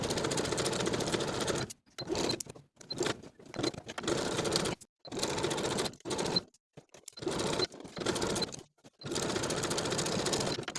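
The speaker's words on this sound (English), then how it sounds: "I'm going to be using a walking foot and a narrow zigzag stitch." A sewing machine runs a narrow zigzag stitch with a walking foot on dress fabric. Close, even mechanical whirring comes in short bursts separated by brief stops.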